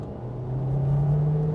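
A Hyundai Tucson's 1.6-litre four-cylinder engine pulls hard in second gear, a steady droning hum that climbs slowly in pitch and grows louder as the revs rise, heard from inside the car with no talking.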